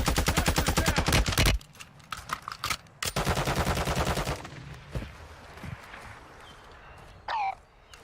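Rapid automatic gunfire from an MP7 in Warzone 2 rattles in loud, dense bursts, the first about a second and a half long and a second lasting nearly two seconds, with a brief sharp burst near the end and quieter game ambience between.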